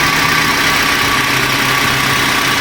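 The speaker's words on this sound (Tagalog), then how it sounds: "so ito yung makina ng Toyota Avanza mga travelers. Napaka-tining pa." A Toyota Avanza engine idles close by in a smooth, steady, loud hum with no revving and no voices.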